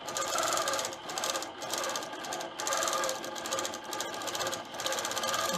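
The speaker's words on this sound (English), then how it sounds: "Keep that machine moving." A quilting sewing machine stitches with clear thread in quick continuous bursts, its rapid mechanical chatter pausing briefly every second or so before starting again, close and fairly loud.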